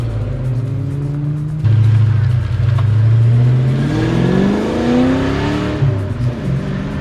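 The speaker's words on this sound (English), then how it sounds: "Nothing sounds like a Foxbody with Flowmasters and an H-pipe." A Foxbody 5.0 Mustang convertible with Flowmasters and an H-pipe rumbles at a deep idle, then accelerates hard, its V8 note climbing through rising revs before easing off, close and loud.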